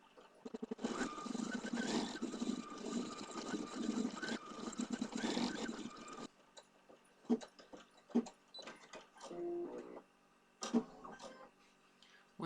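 An embroidery machine stitches a design in silver gray thread, a rapid rhythmic mechanical clatter for several seconds before stopping, followed by scattered clicks and small mechanical noises.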